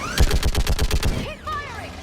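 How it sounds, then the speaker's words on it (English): Rapid automatic weapon fire in Mass Effect 3 during a combat sequence, a dozen or so evenly spaced loud bursts in quick rhythm, then a voice shouts over the battle as the shooting stops. "Keep firing!"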